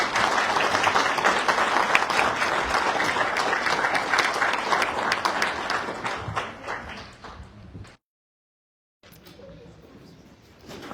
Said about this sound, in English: And one more round of applause for our great volunteers.